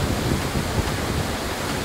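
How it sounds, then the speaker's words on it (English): Steady, loud rushing roar of Salto de Jima, a waterfall roughly 36 to 40 feet high in a Dominican Republic rainforest, a continuous broadband wash of falling water without pauses or speech. "This is the waterfall, Salto de Jima."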